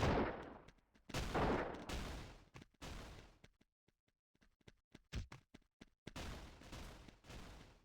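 Sniper rifle shots in a Blockman Go match crack out as sharp, isolated bursts, loud and close, separated by near-silent gaps and a few quick follow-up shots.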